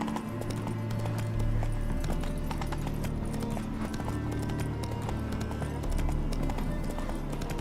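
Horse hooves clip-clop at a steady trotting rhythm, loud and close, over a low droning musical background, in the game The Witcher 3: Hearts of Stone.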